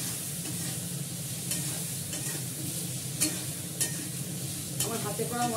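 Masala with sugar sizzles steadily in a hot pan while a spoon stirs and scrapes it, with occasional sharper clicks of the utensil against the metal, close and continuous with no talk.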